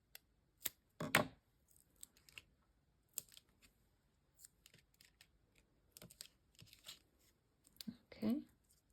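Foam tape for a handmade thank-you card is trimmed with scissors in several short, close, crisp snips and rustles, separated by quiet pauses.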